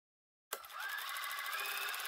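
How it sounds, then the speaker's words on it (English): After a moment of silence, a sewing machine starts abruptly and runs in a steady, fast whir while stitching quilt pieces together, close and quiet. "Using your 1/4 inch seam allowance,"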